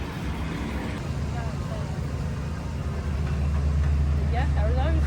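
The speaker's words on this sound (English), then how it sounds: "We got that noisy truck over there." A steady low truck engine rumble idles nearby, constant and heavy, with a few faint bird chirps near the end.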